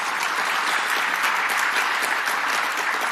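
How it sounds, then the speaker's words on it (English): A crowd at a live panel applauds loudly and evenly, a dense wash of clapping without pause from start to finish. "Can we get a round of applause"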